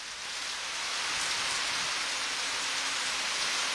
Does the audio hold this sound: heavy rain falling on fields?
yes